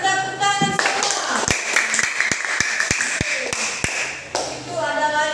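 Sparse, distinct claps from a small classroom group, a dozen separate sharp hits with uneven spacing between spoken voices at the start and end.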